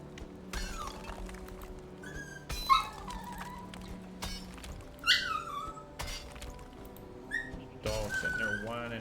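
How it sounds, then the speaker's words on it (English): A dog whines in the Viking survival video game Valheim, giving high, sliding whimpers and yips that come and go in short bursts over a quiet game background, with no talking. "Dog sitting there whining."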